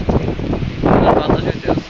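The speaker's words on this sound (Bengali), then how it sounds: "আপনারা দেখতে পাচ্ছেন কি পরিমাণ বাতাস, বাতাসের নয়েজটা ভালো মতো অনুভব করুন" Strong wind gusting across the deck of a ship at sea, a loud buffeting roar hitting the microphone in uneven surges, with a person talking over it.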